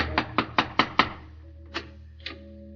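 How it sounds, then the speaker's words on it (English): A fist knocks on a front door in a radio drama: five quick, evenly spaced raps, a short pause, then two slower single knocks, close and crisp with a short ring. "He knocks on the front door."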